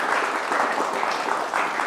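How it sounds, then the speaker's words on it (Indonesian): A studio audience on a televised Indonesian talk show applauds with dense, continuous, loud clapping that holds steady throughout. "Tepuk tangan teman-teman buat BHS."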